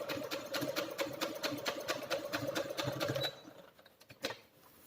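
A sewing machine corner-stitches a pocket on a designer dress, a fast, even run of needle taps for about three seconds, then stopping, followed by a few faint handling knocks.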